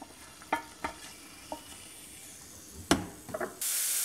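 A garlic clove fries in hot oil, a faint steady sizzle with a few sharp taps and scrapes, then a brighter hiss rising at the end.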